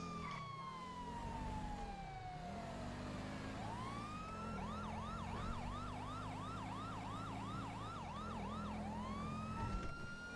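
Wailing and yelping fire truck sirens in the video game GTA V, loud and continuous, sweeping up and down in pitch with a steady low engine rumble beneath.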